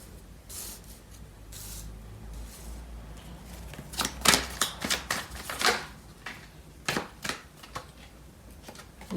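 Tarot cards are shuffled by hand in quick, crisp bursts of riffling and flicking, close and fairly quiet, with no talking.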